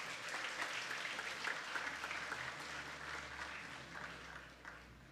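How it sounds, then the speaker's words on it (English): Audience at a secondary school graduation ceremony gives a sustained round of applause, dense steady clapping from a crowd that slowly tapers toward the end. "Can we give him and the recipient another round of applause, please?"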